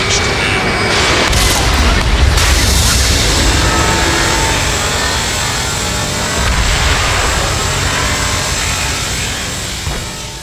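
In the Ace Combat 7 jet combat game, a missile launches with a sudden roar and a heavy booming explosion follows, a loud dense rumble that fills the whole stretch and slowly fades.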